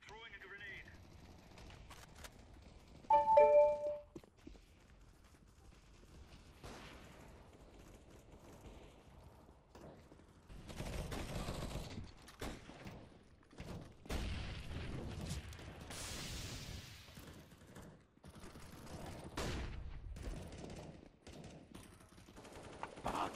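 Grenade and gunfire in the video game Counter-Strike: Global Offensive: a quiet stretch, then dense rolling bursts of shots and blasts that continue for several seconds, with a player talking at times.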